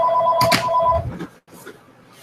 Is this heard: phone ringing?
yes